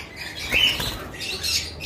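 Yellow-sided conure parrots squawking at a bird farm, a couple of harsh shrill calls over a brief stretch with faint background chatter from other birds.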